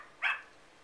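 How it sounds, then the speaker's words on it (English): A single short, faint dog bark, alone against quiet background hiss. "Jingle loved to bark hello"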